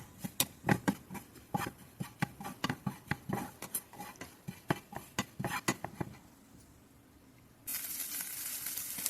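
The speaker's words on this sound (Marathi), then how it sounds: "खोबरं पण आपल्याला थोडं भाजून घ्यायचं आहे व्यवस्थित ब्राऊन रंगावर भाजून घ्यायचं आहे" Grated coconut being stirred and roasted in a pan, a quick series of light spoon taps and scrapes for several seconds, then a soft steady sizzling hiss rising near the end.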